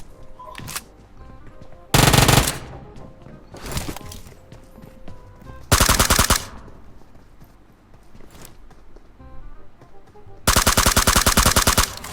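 Three loud bursts of rapid automatic machine-gun fire in a video game, spaced a few seconds apart, with quieter clicks and shuffling between bursts.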